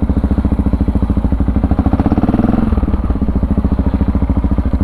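A Yamaha XT motorcycle is ridden at speed on a Dutch dike road, its single-cylinder engine thumping in a loud, rapid, steady pulse close to the microphone, with wind rushing underneath.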